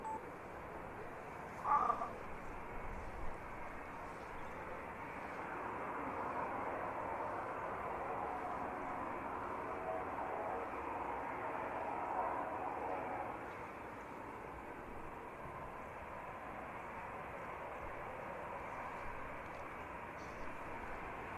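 An EasyJet airliner departs Manchester Airport bound for Reykjavik, a steady distant roar of jet engines rising and holding over about twenty seconds, with a brief faint beep early on.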